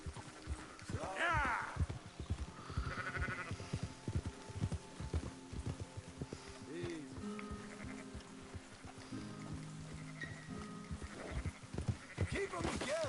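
Sheep bleat repeatedly in Red Dead Redemption 2 while a herd is driven on horseback, mixed with clip-clopping hooves and game music, with people talking over the action.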